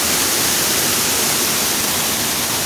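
Mountain river at Llano Grande rushes steadily as a loud, dense broadband roar, close and unbroken, with no voices over it.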